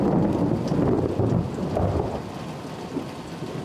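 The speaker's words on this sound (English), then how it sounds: "You can hear it thundering still." Thunder rolls continuously through a heavy outdoor rainstorm, low rumbling swells fading slightly toward the end while steady rain hisses on surfaces nearby; no voices.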